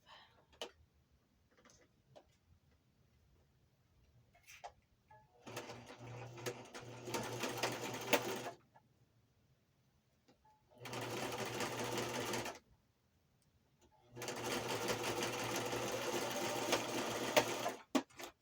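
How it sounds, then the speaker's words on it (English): A sewing machine stitches a puffy journal tag in three bursts of steady mechanical whirring, each lasting a few seconds and separated by pauses filled with small handling clicks. "Hold on, I'm going to sew."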